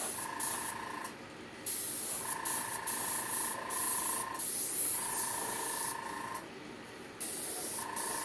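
A spray bottle hisses in repeated bursts of a second or two, close by, with short pauses and a faint tonal hum between sprays.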